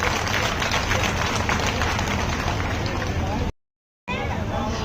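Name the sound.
rally audience applauding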